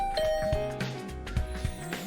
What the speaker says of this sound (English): Better ring the bell first.